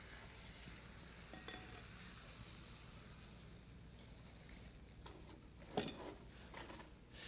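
Crêpe batter sizzles in a hot pan, a faint steady hiss with a few soft clatters as the pan is tilted.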